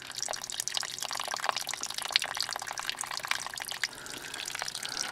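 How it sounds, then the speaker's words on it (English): Condensate water drains from the drain line of a grungy HVAC air handler, a faint steady trickle with scattered drips running continuously, close by and alone. "There's our water out of the drain."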